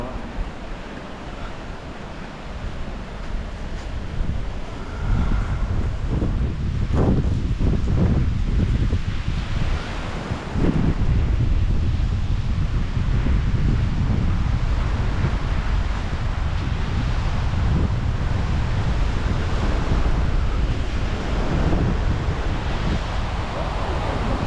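Surf and gusty wind fill a beach at Thong Nai Pan on Koh Phangan, Thailand, a continuous loud wash with rumbling waves and buffeting microphone wind throughout.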